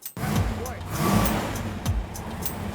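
Car named Thelma and Louise driving around the block, a steady engine rumble with road noise running throughout, with a couple of brief surges.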